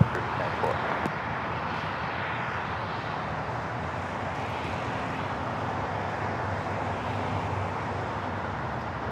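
An airliner taking off from runway 25 right at LAX gives a steady, broad engine roar that holds throughout, with radio voices talking over it.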